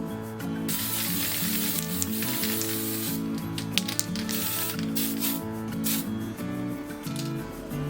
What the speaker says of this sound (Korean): 서페이서를 뿌려줄 겁니다.